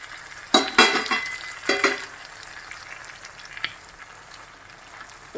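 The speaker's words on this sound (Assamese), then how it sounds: "এতিয়া এইখিনি তেলতে আমি এইখিনি ৰেডি কৰি থোৱা কেপচিকাম আৰু বিলাহী আমি এইখিনি ইয়াতে দি দিম" Capsicum and tomato drop into hot oil for a pork gravy, giving a couple of bursts of crackling sizzle and stirring clatter early on, then a steady low frying hiss with an occasional pan knock.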